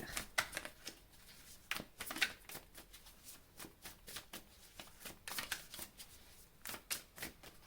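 Tarot cards are shuffled by hand in a quiet room, giving a run of close, crisp riffling and flicking bursts at an uneven rhythm with brief pauses between, with no voice heard.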